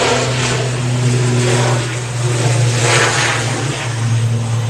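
An aircraft departs Manchester Airport, a loud close engine roar with a steady low hum and a brief surge and dip midway, no voices heard.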